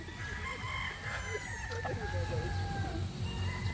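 Roosters at a gamefowl farm crow and cluck together, several birds close by over constant farmyard noise, with people talking faintly.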